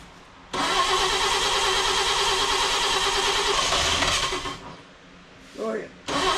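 A 1948 Chevrolet Fleetmaster engine cranks and catches, then runs in a loud, steady roar for several seconds before cutting off, followed by brief murmured talk nearby.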